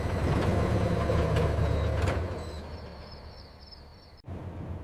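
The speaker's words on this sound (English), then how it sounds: "The doors are open." Tram doors slide open with a mechanical whir and a high steady tone amid rumbling tram noise, the rumble fading before a sharp clunk as the doors finish moving.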